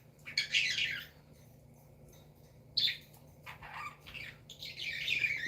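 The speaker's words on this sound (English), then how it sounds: "They're squawking at each other." Birds squawk back and forth in sharp, harsh bursts, several loud calls separated by brief pauses, close by with no talking.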